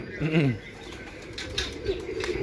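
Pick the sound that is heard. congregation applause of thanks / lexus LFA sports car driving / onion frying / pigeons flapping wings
pigeons flapping wings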